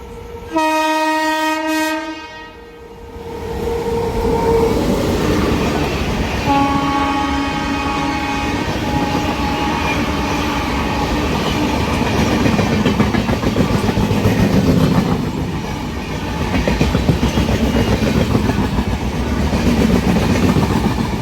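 A WAG-12 electric locomotive of 12,000 horsepower hauling an Indian Railways goods train near Charlapalli gives a loud horn blast, then rumbles past close by with a continuous heavy roar and wheel clatter.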